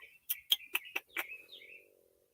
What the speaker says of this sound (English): Could you hear the birds in my backyard chirping?